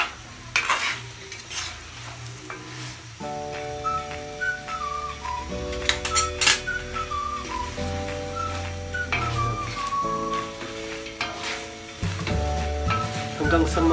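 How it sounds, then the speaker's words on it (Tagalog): Pork adobo with fried potatoes sizzles steadily in a pan, broken by repeated scraping stirs and clinks of the utensil, with background music playing throughout. "Continuous lang ang paghalo para hindi masunog ang ilalim."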